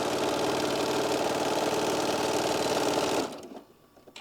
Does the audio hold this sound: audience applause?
no